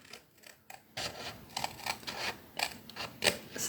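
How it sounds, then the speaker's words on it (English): Sharp scissors snip through A4 card along both sides of a small score line, giving a series of short, crisp cuts with quiet rustling between them, close and alone. "So you need really sharp scissors for this."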